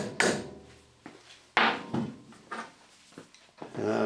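Several sharp, close taps of a screw extractor being driven into a broken bolt deep in a recessed hole, spaced irregularly with quiet gaps between strikes.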